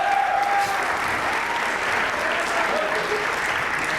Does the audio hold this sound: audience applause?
yes